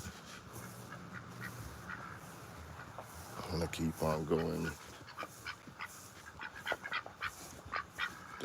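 Ducks quack in scattered bursts, with a louder cluster in the middle, while a person talks nearby.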